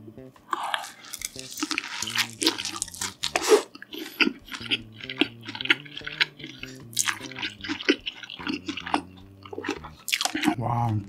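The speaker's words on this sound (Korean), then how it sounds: "다음 바로 크림치즈 맛 먹어." Close, crisp chewing and crunching of a cream cheese flavored snack in an ASMR mukbang, with moist bites and mouth sounds in an irregular rhythm, with some vocal sounds mixed in.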